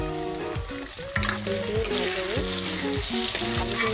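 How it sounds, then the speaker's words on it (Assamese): Vegetables seasoned with salt and turmeric fry in a pan, producing a constant close sizzle and crackle under a steady tonal melody that plays throughout. "হালকা ফ্ৰাই কৰি"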